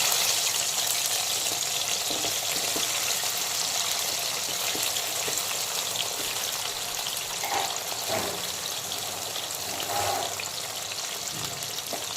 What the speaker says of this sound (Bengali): এখন আমি মাছ ভাজার তেলেই দিয়ে দেব হলুদ মাখানো গাঁঠি কচুগুলোকে প্রথমে খুব ভালো করে লাল লাল করে ভেজে তুলে নেব।